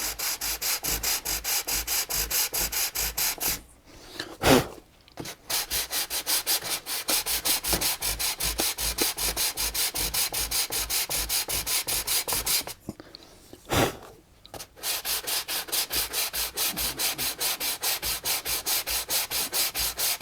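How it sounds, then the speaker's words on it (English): Wood being sanded on a guitar body under construction: a loud, steady rhythmic rasp of rapid back-and-forth strokes, close up, pausing briefly twice before resuming. "So let me get that sanded off real quick."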